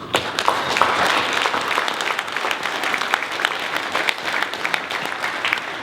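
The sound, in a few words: audience applause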